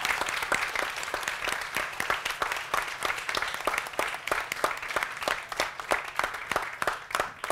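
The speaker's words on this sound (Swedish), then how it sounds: "jag föreslår att ni ger panelen en stor applåd" A seated audience at a panel discussion on the Swedish Armed Forces applauds, with crisp individual claps standing out from a busy, fairly close patter that stays lively throughout.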